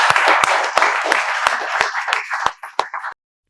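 A group claps in welcome for students arriving to learn spoken English, a dense crackle of hands with distinct loud claps about every third of a second, ending abruptly after three seconds.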